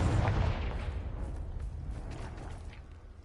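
A Confringo fire spell explodes in Hogwarts Legacy, a heavy, booming blast at the start that rolls off into a fading, rumbling tail.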